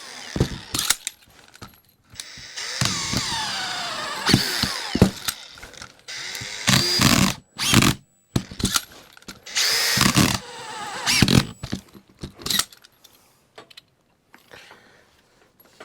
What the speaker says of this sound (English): we'll drive some of these screws in now